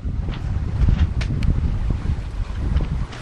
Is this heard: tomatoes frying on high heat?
no